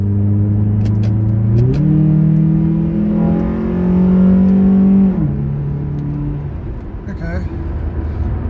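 A Honda Prelude engine idles with a Megan Racing test pipe fitted, a loud steady exhaust drone that rises in pitch for a few seconds, holds, then settles back to idle.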